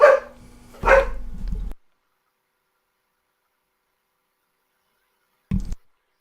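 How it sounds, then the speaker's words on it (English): A dog barks in the background, two loud bursts of barking close together at the start, followed by long silence and then one short final bark. "I had a dog barking in the background."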